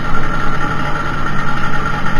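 A 1976 Vespa Sprint scooter's two-stroke engine drones steadily under way, close and fairly loud, with road and wind noise mixed in and no voices.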